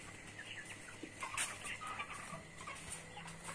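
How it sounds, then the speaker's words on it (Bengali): Native country chickens clucking softly in a poultry yard beside a broiler shed, scattered faint calls over steady background hum, no talk. "এবং এখানে আমার কিছু দেশি মুরগি রয়েছে"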